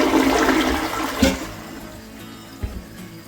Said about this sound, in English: now the inaugural flush